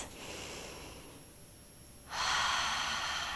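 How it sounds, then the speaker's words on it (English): Pilates breathing: a long, breathy exhale out through the mouth while drawing in the abdominals, soft at first, then a louder, rushing breath close to the mic in the second half. "exhale out through the mouth as we draw in the abdominals"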